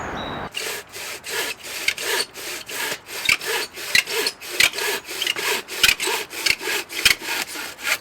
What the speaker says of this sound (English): I start out with the handsaw